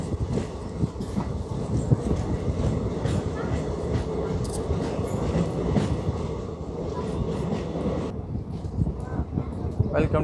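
A mixed-coach train rolls into Siddipet railway station with steady rumbling and clickety-clack of wheels on rails, close and continuous, easing slightly near the end as people talk over it.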